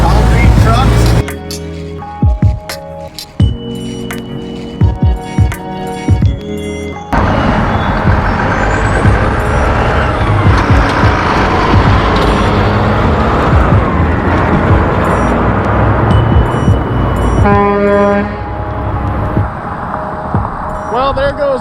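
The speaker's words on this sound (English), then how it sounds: "Well, there goes the concrete pump." Concrete pump at full operation as several concrete trucks unload into it, diesel engine roar and mechanical clanking with rhythmic hydraulic knocks, loud and near, with a truck reversing beep and people talking over it.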